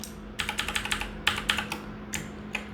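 Quick bursts of computer keyboard typing while entering code, clustered keystrokes in short runs with brief pauses between, close and clear with no talking.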